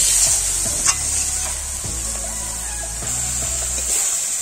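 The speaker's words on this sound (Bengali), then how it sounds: "এবার আমি মশলাটাকে ভালোভাবে কষিয়ে নেব।" Masala spices sautéing in a pan with a splash of water, a bright continuous sizzle with a few scraping stirs of a spatula, close and loud.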